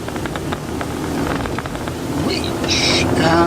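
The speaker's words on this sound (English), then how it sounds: "Nice smooth engine, we've got 6 cylinders here." Mercedes OM603 six-cylinder diesel engine running smoothly at a steady idle, a continuous low mechanical rumble with some broadband noise, while people talk over it nearby.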